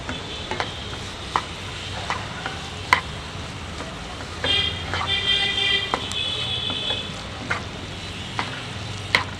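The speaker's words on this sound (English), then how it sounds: "stirring in." A spoon stirs a prepared spice powder with Kashmiri red chilli into a sizzling soya chunk curry in a pan, giving steady frying hiss with repeated sharp clicks and scrapes of the utensil, close and without talk.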